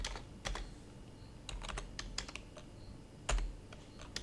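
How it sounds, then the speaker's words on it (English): Typing on a computer keyboard, faint close key clacks in irregular bursts and single taps, with a louder thump near the end and no voices. "Jeez, I type like shit."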